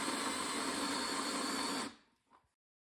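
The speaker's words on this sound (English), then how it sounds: "It's important to hold the drill bit perfectly straight and push down hard." Power drill bit grinding into a 1997 Toyota RAV4 wheel rim to reshape a lug-nut seat, a loud steady near whine for about two seconds, then spinning down and stopping with a brief faint knock.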